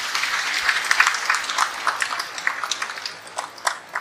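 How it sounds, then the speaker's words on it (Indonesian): A church audience gives a round of applause for long-married couples, with individual claps distinct and uneven, swelling and thinning across a few seconds, moderately loud, with no speech over it. "Kita tepuk tangan untuk mereka ini."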